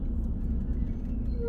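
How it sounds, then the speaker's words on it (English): A big truck drives past close by with a heavy, continuous low engine rumble and road noise that holds steady over the short moment. "Nice big truck"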